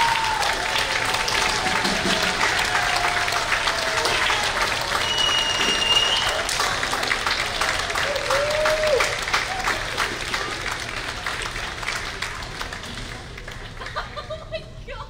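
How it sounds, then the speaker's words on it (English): A high school spring band concert audience applauds the symphonic band, sustained clapping for about fifteen seconds with occasional thumps and brief cheers, gradually tapering toward the end. "Let's give another round of applause for the Terms of East Symphonic Band."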